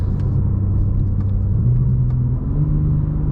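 A 2024 BMW M2 drives hard through a roundabout in manual mode, heard from inside the car. The engine drones with a steady, close rumble, and its pitch climbs as it revs up near the end.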